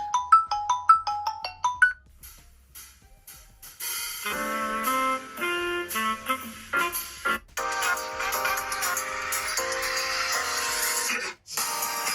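A Poco X3 smartphone plays ringtones back to back: a quick high chiming pattern, a short pause, then a loud busy electronic tune with layered synth notes.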